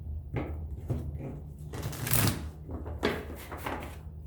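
Tarot cards shuffle in repeated bursts of riffling and soft slapping, close and fairly loud, with brief pauses between handfuls.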